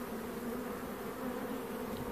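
Honey bees gather at a beehive, their steady, soft buzzing drone continuous and even throughout, heard close without any voices.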